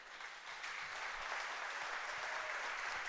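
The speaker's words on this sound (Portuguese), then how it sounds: "Você pode aplaudir a Ele." A church congregation applauds during a sermon, a continuous wash of clapping, moderately distant and steady for the whole stretch.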